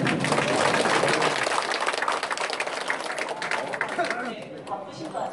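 Audience applause at an exhibition opening ceremony, a dense burst of many hands clapping at close range that holds strong for several seconds, then slowly thins and fades toward the end.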